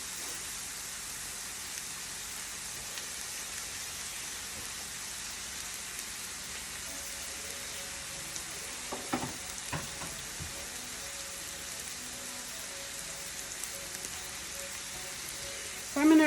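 Meatballs sizzle in a frying pan with steady fat crackle throughout, a continuous rain-like hiss punctuated by a few sharper pops and clinks from the pan midway and at the end.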